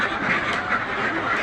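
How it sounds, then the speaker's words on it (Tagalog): A flock of domestic ducks quacking continuously, a dense overlapping chorus of nasal calls close by. "Dito naman tayo sa ating mga alagang itik"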